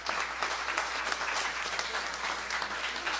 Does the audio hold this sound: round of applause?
yes